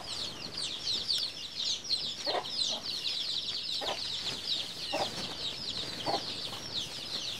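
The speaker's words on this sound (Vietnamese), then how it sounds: "Mấy con gà con nhiều quá ha." Many chicks cheep constantly in high, busy chirps at a rural hen-rearing spot, while adult chickens give occasional low clucks beneath them, close and fairly loud.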